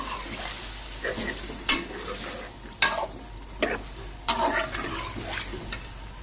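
Marinated chicken pieces coated in spices frying in a pan for biryani, with a steady sizzle broken by several sharp scraping stirs and clinks of a spoon against the metal.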